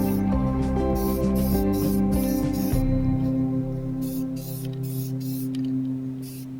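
White primer sprayed from an aerosol can onto the spokes of cheap used car wheels: repeated short hissing bursts over steady background music.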